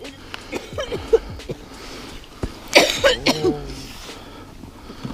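A child coughs outdoors on a frozen river during an ice-fishing outing, with scattered harsh coughs clustered in the middle and softer sounds around them, close by.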